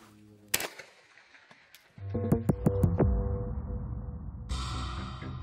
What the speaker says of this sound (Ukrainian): Порівняйте з пострілом без глушника.